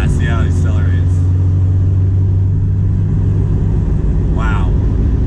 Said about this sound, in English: let me hit the gas, see how it accelerates.